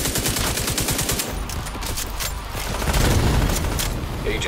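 Gunfire in the video game The Division 2, rapid automatic bursts with crisp repeated shots at the start, then scattered fire and heavier booms amid combat noise.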